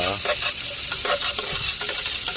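Onion, garlic and ginger sauté in a hot pan, making a loud continuous sizzle with rapid stirring scrapes throughout a short burst and no speech.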